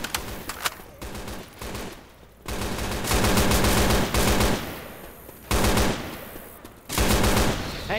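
Automatic gunfire in the zombie shooter Left 4 Dead 2 at the Dark Carnival concert, loud sustained bursts separated by brief pauses, with dense rapid shots and a few lulls between volleys.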